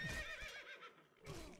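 A horse whinnies in a video game, a clear, fairly loud neigh with a wavering high pitch that breaks off and then resumes briefly.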